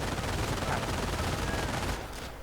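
Sustained MG42 machine gun fire in a World War II strategy game battle, a dense continuous rattle of rapid shots that tapers off near the end.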